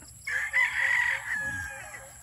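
A nine-month-old pure Boston gamefowl rooster crows once, close and loud, a single drawn-out call over a quiet farm background.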